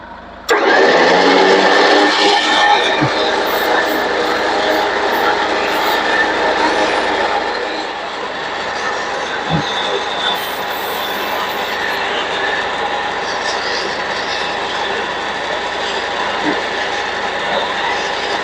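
A winch motor runs continuously during maintenance at home. It starts abruptly with a loud, harsh grinding whine, carries on steadily with some ratcheting texture, then eases slightly to a lower level and keeps running.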